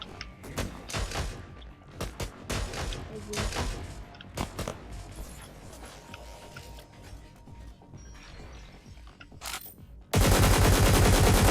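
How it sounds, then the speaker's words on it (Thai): Gunfire in the video game Cyber Hunter, with bursts of rapid shots in clusters through most of the clip and a loud steady noise at the end, while players talk over it. "คนยิงเรากลับละ"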